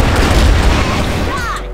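A single heavy boom comes from a Barrett sniper rifle fired in a ranked online shooter match. It is loud and close, with a short rumbling tail that fades out.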